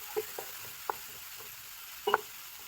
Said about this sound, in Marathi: कांद्याला चांगलं पहिले आपण फ्राय करून घेऊया।